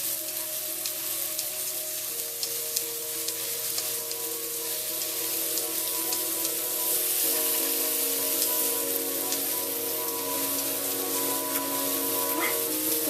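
Onions and garlic frying in a pan for Vietnamese rice, a close, steady, even sizzle with faint stirring, continuous and unbroken.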